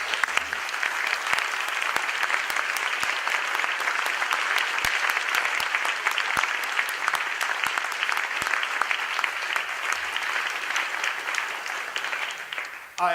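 An audience at the 2012 ATHE awards ceremony applauds the conference committee, a steady, dense wash of clapping that holds at full strength for the whole stretch, with a few sharper individual claps standing out.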